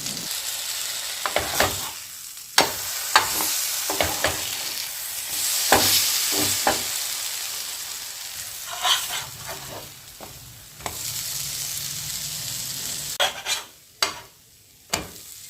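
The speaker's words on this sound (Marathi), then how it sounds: "आता आपण दोन्ही बाजू भाजून घेऊया" Dahi toast frying in ghee or butter in a pan over medium heat while both sides are browned. Loud, steady sizzling is broken by repeated clattering scrapes and stirring knocks against the pan.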